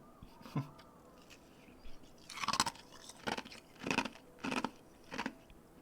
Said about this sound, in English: the squeak's the best part when people chew ice